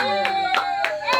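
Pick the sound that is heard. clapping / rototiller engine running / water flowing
clapping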